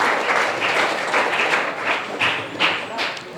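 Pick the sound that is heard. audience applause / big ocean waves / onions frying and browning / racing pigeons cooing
audience applause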